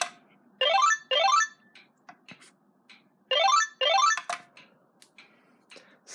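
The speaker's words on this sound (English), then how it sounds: "this button here and it will page the phone." A Panasonic cordless phone handset chirping when paged from its base: two pairs of quick rising electronic trills, close and clear, separated by a gap, with faint clicks and handling noises between them.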